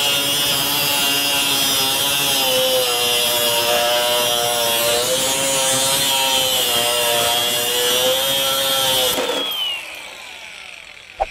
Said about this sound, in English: So cutting through that 2-inch wide, 1/4-inch thick steel flat bar.